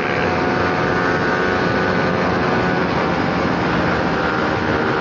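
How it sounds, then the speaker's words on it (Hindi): Two motorcycles with loud Akrapovic exhausts, an Apache RR 310 and an RC 200, droning steadily and loudly for several seconds as a continuous engine roar. "भाई दोनों का एग्जॉस्ट इतना ज़्यादा लाउड है ना"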